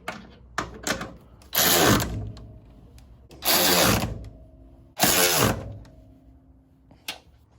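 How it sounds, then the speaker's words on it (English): A power tool drives the top bolts on roller-bearing spring perches of a 1968-69 Ford Fairlane, running in three loud sustained bursts of a couple of seconds each, separated by quieter clicks and ratcheting handling noises. "now we'll go ahead and tighten up our top bolts."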